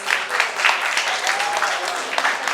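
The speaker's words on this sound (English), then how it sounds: "A round of applause." Steady round of audience applause at a book launch, dense overlapping claps sustained throughout, with a voice briefly audible under it.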